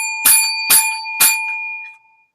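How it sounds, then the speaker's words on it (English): A bell rung to open a live hockey podcast gives three quick, bright rings in even succession, each ringing on and fading into silence. "Let's ring the bell"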